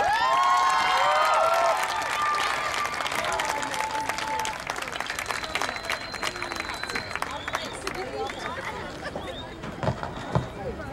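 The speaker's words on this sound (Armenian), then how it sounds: "Եկեք մեկ անգամ էլ ջերմ ծափահարենք 3 տարեկան երեխա, հրաշք երեխա" Audience applause and cheering for a three-year-old child performer, loud dense clapping at first that gradually thins into scattered claps, with children's shouts and crowd murmur underneath.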